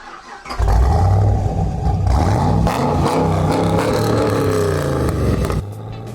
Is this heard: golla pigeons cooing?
no